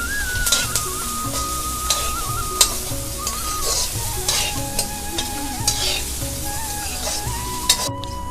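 Onions and ginger-garlic paste frying in a pan for Assamese pork curry, stirred constantly: a continuous sizzle with repeated scraping and clinking strokes of the spatula at close range.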